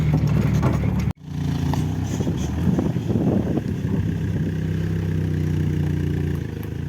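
Daewoo Nexia car with 130k of mileage being driven after a serious crash, a steady low engine drone and road rumble from inside the cabin, with a brief dropout near the start, then continuous.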